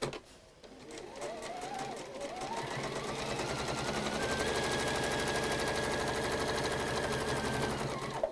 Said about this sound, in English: I'm just going to stitch across, and that's just going to reinforce the bottom of that armhole.